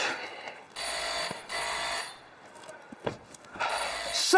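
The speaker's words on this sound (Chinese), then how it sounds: "电话响了" A telephone rings on a comedy show stage: three bursts of electronic ringing separated by short pauses, with faint knocks and movement between them.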